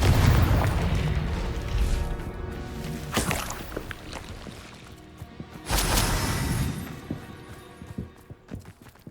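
Two loud, booming blasts from the Confringo fire curse in Hogwarts Legacy, each a sharp broadband explosion that decays with rumbling debris, separated by a few seconds of quieter game noise.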